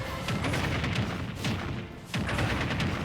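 Explosions and bursts from Snake's grenade in a Super Smash Bros. Ultimate tournament match, loud, dense and repeated over continuous game noise, with three swells across the stretch.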